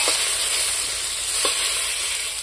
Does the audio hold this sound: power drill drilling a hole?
no